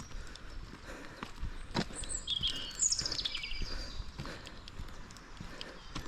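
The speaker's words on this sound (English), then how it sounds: "as you can hear, the birds brought up bright and early." A few bright bird calls and chirps ring out in a UK forest in early morning, brief and mid-distance over soft crunching footsteps along a walking path.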